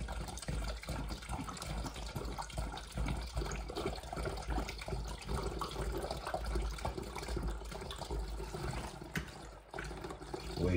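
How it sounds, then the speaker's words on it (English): Orange juice pours from cartons into a container for homemade wine, a steady, close liquid gush and splash that runs continuously without talk. "And then we're just going to pour these"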